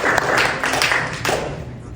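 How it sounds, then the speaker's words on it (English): A small audience at a Dubai startup founders' evening event claps for about two seconds, a dense patter of hands with a few louder claps standing out, fairly close. "Please clap for yourselves."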